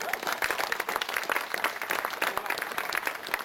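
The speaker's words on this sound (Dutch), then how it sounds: "Een applaus." Brief, lively audience applause with quick overlapping claps, steady and moderately loud for a few seconds.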